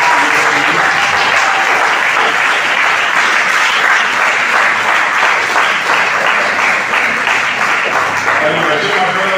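Loud, sustained applause from an audience fills the room throughout, honouring the KVTC staff at an event for special children who became karate champions.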